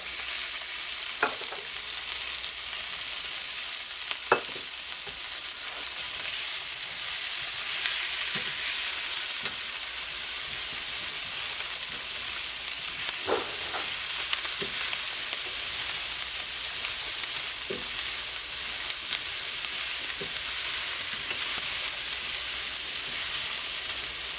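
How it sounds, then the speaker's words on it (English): Vegetables sweat in a pan with browned bits on the bottom, a loud steady hissing sizzle running throughout, with occasional faint clicks and scrapes of stirring. "We're going to actually sweat the vegetables at the bottom here to get the brown bits, the brown gold off the bottom of the pan."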